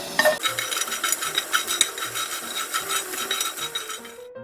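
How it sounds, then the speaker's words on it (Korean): Cleaned anchovies stir-fried in a pan, giving a steady close scraping and rasping of the utensil against the pan with small rhythmic strokes throughout, no voices. "팬에 손질한 멸치를 볶아주세요"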